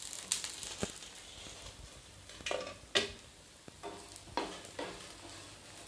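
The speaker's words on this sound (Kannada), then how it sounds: "ಇದು ನೋಡ್ರಿ ನಮ್ಮ ಮೆಣಸಿನ್ಕಾಯಿ ಯಾವ ರೀತಿ ಫ್ರೈ ಆಗೈತೆ ಅಂತ" Green chillies for mirchi masala frying in a pan, with soft sizzling and sporadic scraping stir strokes against the metal, faint and close, no talking.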